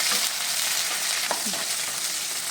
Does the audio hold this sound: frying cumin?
yes